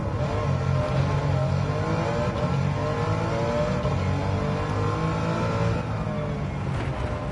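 A BMW M3 engine in the Gran Turismo 7 racing game drones steadily under acceleration, a continuous loud revving whine with shifting pitch and no talk.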